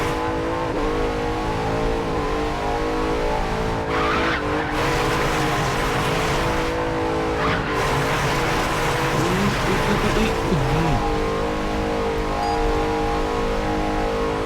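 A Bugatti Centodieci in the Racing Master racing game roars at speed, then brakes hard into a long corner with tire squeal and skidding before the engine climbs again, loud and continuous.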